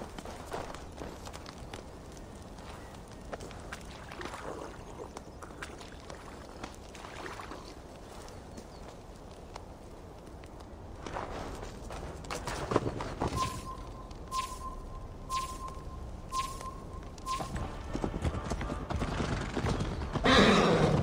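Horse hooves clip-clop with occasional whinnies while riding in the Viking-era video game Assassin's Creed Valhalla, a steady mid-level hoof rhythm with a brief tonal call partway through and louder movement toward the end.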